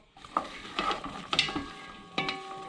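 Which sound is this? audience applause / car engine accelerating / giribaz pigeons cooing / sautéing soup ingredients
sautéing soup ingredients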